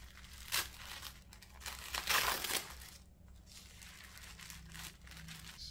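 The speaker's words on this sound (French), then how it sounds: "J'ai enlevé le papier comme ça," Paper is peeled away from a handmade heart-shaped craft piece, with crisp crinkling and a few louder tearing rustles in short bursts, close and fairly quiet.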